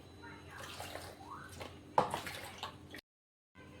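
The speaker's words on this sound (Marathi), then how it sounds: "मी ते गाजर धुवून घेते" Carrots being rinsed in a kitchen for Maharashtrian gajar halwa, with close sloshing and dripping water lasting a few seconds, then a brief silence before faint splashing resumes.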